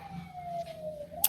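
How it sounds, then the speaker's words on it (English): A police siren sound effect played through a small speaker, a thin wailing tone sliding slowly downward at low volume, ending with a brief sharp click. "Right when you did that, the sirens kicked in again."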